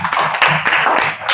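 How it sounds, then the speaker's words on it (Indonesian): Students in a classroom clap together, giving a short burst of fairly close, uneven hand claps with a few sharper accents, over just over a second. "Kita tepuk tangan dulu."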